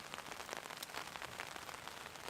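Steady rain patters on a taut tarp shelter at a campsite, a dense crackling hiss of drops close by, continuous and even throughout.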